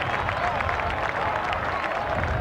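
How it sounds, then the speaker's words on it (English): Crowd at a 1986 Essendon versus Geelong Australian football match at Windy Hill applauding a diving mark, a dense wash of steady clapping heard from a distance. "The crowd stand to applaud the diving effort of Roger Merritt."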